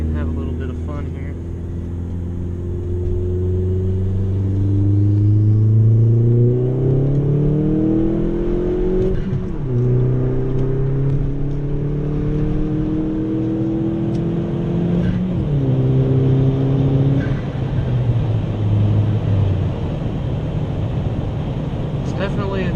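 A small-engine car revs repeatedly with its engine note climbing and dropping, loud and close, and crackling exhaust pops come between the revs over a constant rumble.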